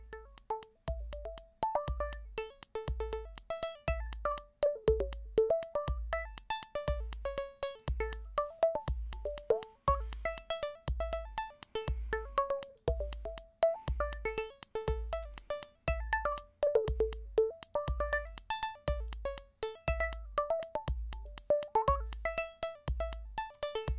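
A VCV Rack software modular synth plays two interlocking, irregular gated patterns: a steady thudding low kick-like pulse beneath shifting bright plucked tones that repeat in uneven rhythmic phrases, clean and continuous with no voices.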